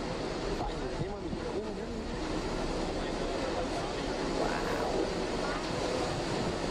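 Giant waves crash on rocks, a continuous roaring surf and wash of foaming water with wind noise, steady and loud throughout, with faint speech beneath.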